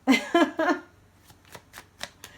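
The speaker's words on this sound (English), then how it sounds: "You're watching me shuffle a million different decks" A voice speaks briefly, then a short series of soft, brisk riffling sounds of tarot cards being shuffled close by.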